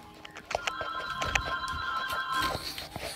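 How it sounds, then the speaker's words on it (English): A phone rings indoors with steady electronic trilling tones lasting about three seconds, fairly close, over faint room noise and no talking. "Phone."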